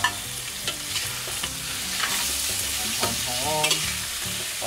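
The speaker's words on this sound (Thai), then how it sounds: "ใส่หมู3ชั้นครับลงไปผัดก่อน" Pork belly sizzles in a hot pan during a Thai noodle stir-fry: steady close frying hiss with repeated spatula scrapes and knocks on metal, busier toward the end.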